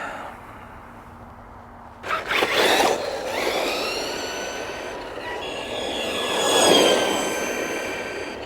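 An Asuga XLR extra-large RC buggy on 4S power runs at full throttle, a rising whine with harmonic tones sweeping up and down, a faint motor hum at first, then loud and steady before swelling toward the end.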